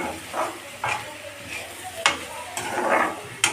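Chopped chapati pieces stirred in a pan for a snack, with a spoon scraping in a few separate loud strokes over a soft sizzle, close by, with no talking.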